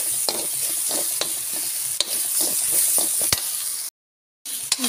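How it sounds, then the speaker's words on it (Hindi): Garlic and ginger fry in a pan for an Indian carrot pickle, giving a steady close sizzle broken by repeated scrapes and taps of stirring, then a brief silent gap before the sizzling resumes. "अदरक और लहसुन को भून लेना"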